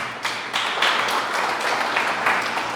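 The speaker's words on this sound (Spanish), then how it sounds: "Otro aplauso para Jesús" Church congregation applauding during a sermon, a dense, steady wash of many hands clapping at moderate distance, continuous throughout with faint voices mixed in.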